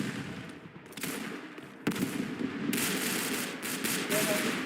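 Gunfire and a grenade blast in the Roblox video game, bursts of rapid shots and a sharp explosive hit amid dense game noise.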